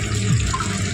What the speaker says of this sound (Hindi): और बारिश आ रही है, हम गीले हो रहे हैं, कैमरा में पानी जा रहा है।